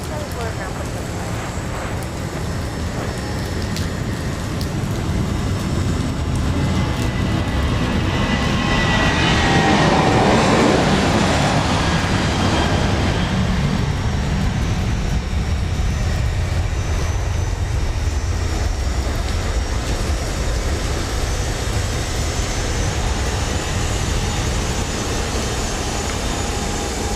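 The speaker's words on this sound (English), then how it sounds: "So we have two planes preparing to take off. Well, one is actually doing that as we speak." A Boeing 737-700 jet takes off from Dallas Love Field on a rainy morning, its engine roar swelling to a peak and then fading into the distance, with radio chatter from air traffic control running underneath.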